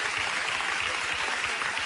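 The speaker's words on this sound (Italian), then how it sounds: "Applauso, eccolo qua." Studio audience applauding as a guest walks onto an Italian radio show set, dense continuous clapping at an even level throughout.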